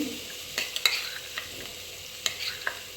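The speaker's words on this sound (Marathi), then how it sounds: "मिरची अशी मस्तपैकी थोडीशी परतून झाली की" Green chillies sautéing in a pan for Shegaon-style khasta kachori filling, a soft continuous sizzle with occasional sharp spoon scrapes and taps, close up and without speech.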